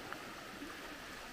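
A small waterfall on a wooded hiking trail pours into a narrow stream channel, giving a soft, steady rushing and trickling wash heard from a short distance, faint and unbroken, with no voices.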